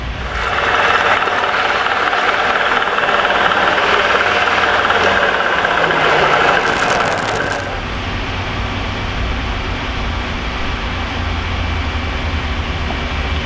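A car's power steering pump sucks air and makes bubbles, producing a loud, steady droning whine over the running engine. The whine eases partway through, leaving a lower hum.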